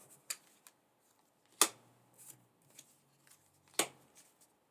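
Tarot cards being shuffled by hand and pulled from the deck, a few sharp riffling flicks and soft card slaps close up in a quiet room, no talking.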